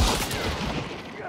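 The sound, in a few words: gunshot in video game Hunt: Showdown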